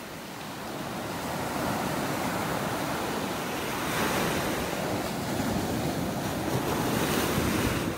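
Surf washing ashore on a beach in North Naples, Florida, a constant broad roar of breaking waves, near and loud, with wind rushing across the microphone throughout.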